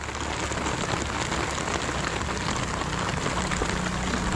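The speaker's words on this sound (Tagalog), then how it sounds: "Grabe, lakas ang ulan." Heavy rain of the northeast monsoon falls in a dense, steady hiss on surfaces, loud and even throughout with no break or voices.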